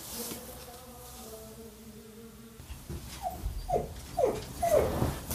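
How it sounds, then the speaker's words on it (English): A pet dog whines indoors, first faint and muffled, then a run of four or five sharp, rising whimpers close by in the second half. "now the dog's whining to go with my husband"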